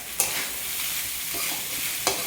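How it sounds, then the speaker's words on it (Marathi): Onion and kurdai frying in a pan and stirred with a spoon, a steady hiss of sizzling with two sharp scraping strokes against the pan, close and clear with no talking. "आणि मस्तपैकी एकदा आता हलवून घेणार आहे हा कांदा"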